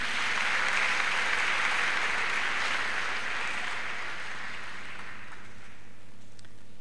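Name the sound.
applause and ululation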